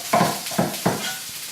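Chilies and aromatics fry in a pan with a steady crackling sizzle, broken by three rhythmic scraping strokes as they are stirred, close up.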